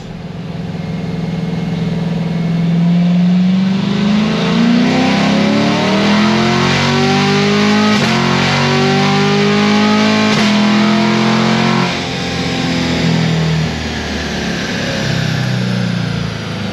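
A bolt-on modified car revs hard on a dyno, its engine note loud and sustained as it climbs steadily through the rev range for the whole run, with no voices.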